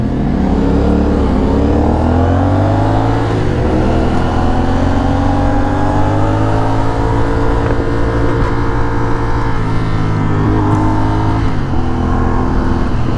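A new CFMoto 450SR S sport motorcycle is ridden on a test ride. The engine drones loud and close, and its pitch rises and falls smoothly through steady revving and gear changes.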